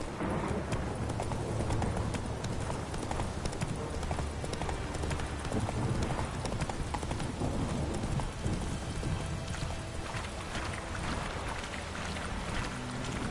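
Roach the horse gallops in The Witcher 3, a steady fast clip-clop of hooves that runs throughout under a constant wash of rain and occasional rumbling thunder.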